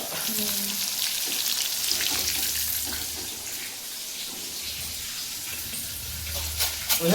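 Mirchi bhajiya, chili fritters in gram-flour batter, fry in hot oil with a steady, close sizzling hiss, occasional soft stirring and faint watery bubbling throughout.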